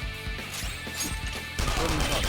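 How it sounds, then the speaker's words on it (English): A frozen enemy shatters in a single strike in the video game Persona 5 Royal: a sharp, loud crash-and-smash burst amid busy battle effects and music, with a fresh impact surge near the end. "An enemy's frozen. Shatter it in one strike."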